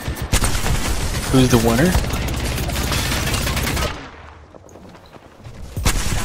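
Rapid bursts of L-Star energy gunfire and Devotion machine-gun fire in a video game firefight, loud and dense for about four seconds, then easing to quieter ambience with a final burst, under a voice speaking.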